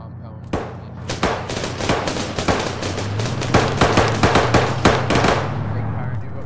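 Dense automatic gunfire rings out in Arma 3 during a compound raid, rapid overlapping bursts and sharp cracks piling up loudly, with voices faintly underneath.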